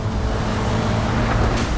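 A car engine roars steadily with turbo boost during a race in the Need for Speed video game, loud and continuous with no break.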